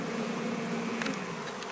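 Honeybees in an early spring hive colony make a dense, continuous buzz, close and even in level, with no voices.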